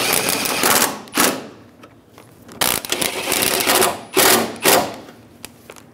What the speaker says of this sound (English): Install the bolts in the top of the headlight.